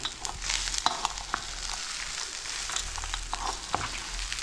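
Tamarind rice being stirred and mixed in a hot pan gives a faint, continuous sizzle with soft scraping and occasional light clinks of a spoon.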